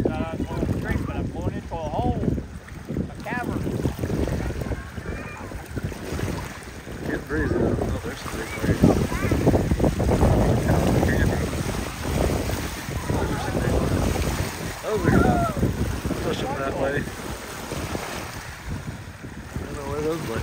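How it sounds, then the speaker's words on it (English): Water sloshing and lapping at a lake swimming spot, a steady broadband wash with wind buffeting the microphone and voices talking over it throughout. "I don't know where those like waves came from"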